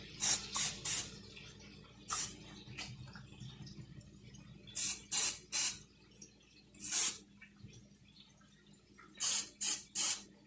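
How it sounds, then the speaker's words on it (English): Short bursts of olive oil spray mist into plastic meal-prep cups come in quick clusters, two or three brief hissing puffs at a time, separated by quiet pauses, close and crisp. "So I get some spray olive oil, and I spray the cups."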